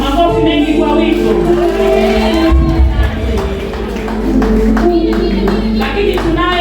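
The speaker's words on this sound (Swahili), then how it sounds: "Makofi mengi kwa wito." Church congregation applauding together at a service, a sustained wash of clapping and crowd noise that holds steady throughout with a voice talking over it.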